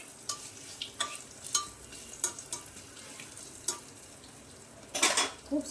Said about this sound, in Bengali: জিরেগুলো একটু ভাজা হয়ে গেলে গন্ধ বেরিয়ে